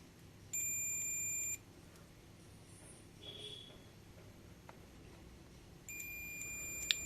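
A multimeter set to diode range beeps while testing a T15U50S 15 A 50 V Schottky diode: two sustained electronic tones about a second each, separated by quiet, with faint handling noise between.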